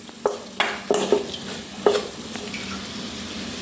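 Spiced bitter gourd masala sizzles in a frying pan while a spoon stirs it, giving a few clinking scrapes against the pan over a steady close hiss.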